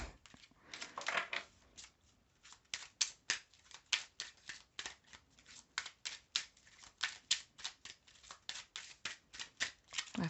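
A deck of cards is shuffled by hand in a quiet room, a rapid run of crisp riffles and flicks in bursts that keep repeating, close to the listener.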